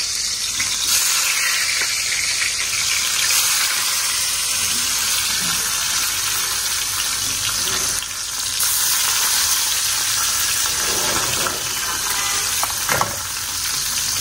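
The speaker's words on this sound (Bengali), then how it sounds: "আর এখানে হচ্ছে কড়াই বসালাম, এই যে মাছটা আমাদের জন্য না আর মাছ রান্না করব।" Fish frying in hot oil in a wok gives a steady, loud, dense sizzle that runs unbroken throughout, with faint stirring and watery crackle and no talking.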